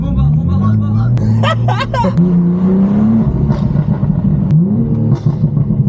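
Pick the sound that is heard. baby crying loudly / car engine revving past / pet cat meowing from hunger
car engine revving past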